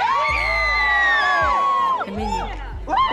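Excited crowd at a gender reveal party, with fireworks being prepared, bursts into loud overlapping shouts, whoops and cheers, including children's voices, in two or three surging waves across about three seconds.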